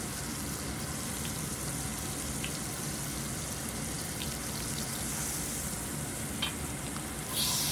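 Beef pot roast sears in a hot pan with a steady, dense sizzle and crackle that runs close and continuous throughout, swelling briefly near the end.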